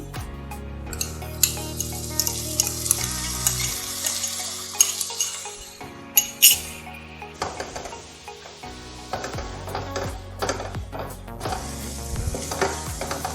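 Crushed ginger and garlic frying with onions and curry leaves in a pan for egg curry, an intermittent sizzle with sharp spatula and pan clinks and scrapes, loud and close.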